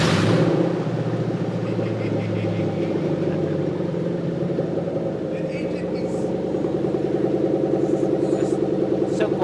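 A V8 engine from a fresh engine build starts up and settles into a steady, deep idle, with a strong exhaust rumble running close and loud throughout while people talk over it.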